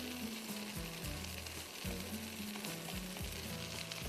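Black rice stir-frying in a hot pan over high heat, a steady loud sizzle with repeated scraping stirs and tossing at a regular rhythm, close up with no talking.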